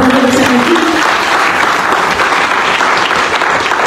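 A church congregation breaks into loud, sustained applause to acclaim the Lord during a French-language service, a dense, steady clapping that fills the room with a brief voice near the start.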